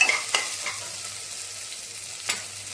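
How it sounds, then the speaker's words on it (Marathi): Green chilies and asafoetida sizzle steadily in hot oil in a pressure cooker, with a few distinct scrapes of a spoon stirring them, close and alone with no voices. "हिरव्या मिरच्या थोड्या टाकायच्या आणि हिंग टाकायचं थोडं। हे सगळं ढवळून घ्यायचं।"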